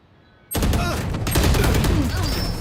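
Vandal rifle fire in the shooter game Valorant bursts in suddenly after a quiet moment, a loud, rapid stream of shots that continues to the end amid other game effects.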